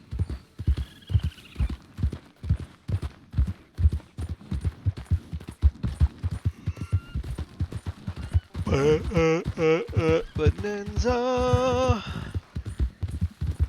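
A horse's hooves clip-clopping steadily in a video game, a brisk rhythmic gallop of soft thuds running throughout, with a voice singing over part of it.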